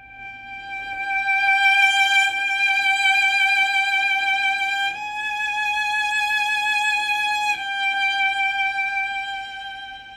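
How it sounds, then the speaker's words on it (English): Cello played piano dolce with a shaky vibrato and a fast, transparent bow: one sustained, wavering high line with bright overtones, shifting pitch twice, close and alone. "I'm going to have a shakier vibrato, and I'm going to have a fast and more transparent bow"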